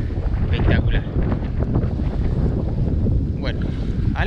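Strong wind blows at the sea on the coast near Santa Clara, buffeting the microphone with loud, gusty low rumbles while waves wash in and a voice speaks briefly over it.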